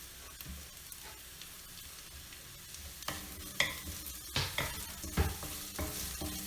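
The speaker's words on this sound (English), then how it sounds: "So now into this, we'll go ahead and add in the spring onion." Spring onion sautéing in a pan for a soup, a quiet frying hiss broken by sharper clinks and scrapes of a utensil stirring against the pan, growing busier in the second half.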